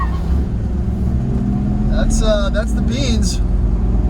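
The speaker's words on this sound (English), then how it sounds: "We're gonna take it out on the highway and see how she runs at speed" A 1995 Ford Bronco Eddie Bauer with a 200-horsepower engine pulls along the highway, a steady low engine drone and road roar filling the cabin while someone talks over it.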